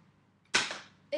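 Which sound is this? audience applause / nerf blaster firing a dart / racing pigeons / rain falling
nerf blaster firing a dart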